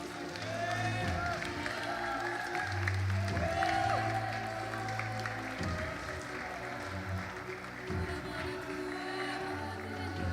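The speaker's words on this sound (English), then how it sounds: "And so, ladies and gentlemen, with that applause, we can welcome in the stadium the medalist for the male under-17 category." Crowd applause fills a stadium at the European Youth Championship bouldering finals medal ceremony, steady clapping and cheers heard from a distance under a PA announcer's voice.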